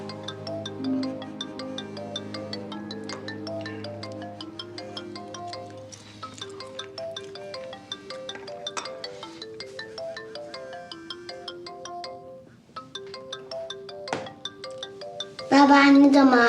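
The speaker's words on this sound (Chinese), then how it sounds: "你怎么还不接电话？" A telephone rings unanswered through a family meal, its melodic ringtone repeating steadily in the foreground. Voices talk over it near the end.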